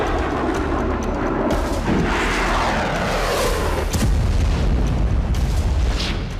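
Heavy explosions from a missile attack in news footage, a dense continuous roar of blasts and rumbling booms, loud and sustained with no talking.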